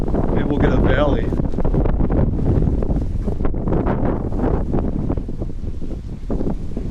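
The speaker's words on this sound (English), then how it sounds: "A little windy." Gusty wind buffets the microphone at an amusement park in Alabama with a constant rumbling roar, with rustling and bursts of noise throughout.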